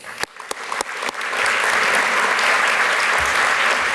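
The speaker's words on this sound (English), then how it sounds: "Please give a warm round of applause for our speaker, Pam MELROY." A conference audience breaks into applause for a speaker, a few sharp claps at first swelling into steady, dense clapping that carries on to the end.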